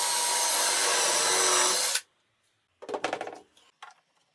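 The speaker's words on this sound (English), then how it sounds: "I drill the two holes." A power drill bores dowel holes through a doweling jig into a wooden shelf edge, a loud steady whine for about two seconds that stops abruptly, followed by a short burst of clatter and a faint tap.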